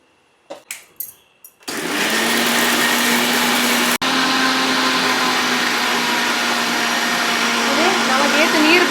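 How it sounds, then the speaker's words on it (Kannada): A kitchen mixer grinder blends masala for a mud crab sukka, opening with a few short pulses before running into a loud, steady whirring grind that holds for several seconds after a brief click. "ಮಸಾಲ ಎಲ್ಲ ಚಪ್ಪೆ ಆತ ನೂನೆ ಎಲ್ಲ ಮಿಕ್ಸಿ ಪಾಡ್ದು"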